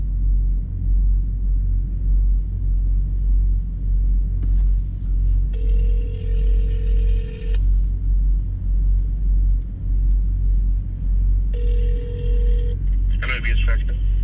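A phone line rings twice, each long electronic ring tone separated by a pause, heard over a steady low engine rumble inside a truck cab while calling a truck parts shop.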